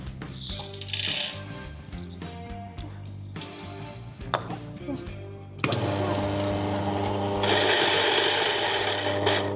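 A coffee grinder, an IK hand grinder set to 11.5, grinds 10 grams of Purple Haze beans for cupping, a loud steady rasping whir building up through the second half, after earlier clicks and handling noises.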